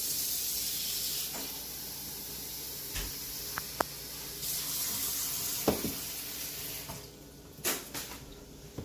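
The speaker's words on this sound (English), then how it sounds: "I'm just gonna add some more water to it." Water runs steadily from a tap into a cooking pot with a broad hiss, punctuated by a few small knocks and clinks near the end.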